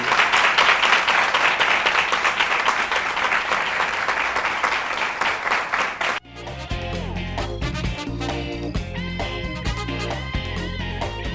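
A crowd applauds at a youth association event in Treichville, with dense, loud, steady clapping for about six seconds before it cuts off abruptly and music takes over.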